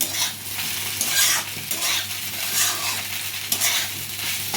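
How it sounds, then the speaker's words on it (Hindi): Poha with spices and sugar stir-fries in a pan, a dense continuous sizzle with rhythmic scraping surges from stirring, close and without speech. "बस अब इन चीज़ों को डाल के हमें इसे 1 से 2 मिनट भून देना है अच्छे से"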